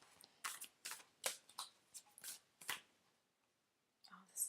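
Soft, quick riffling bursts of card shuffling, several in a row, then a pause and a faint voice near the end.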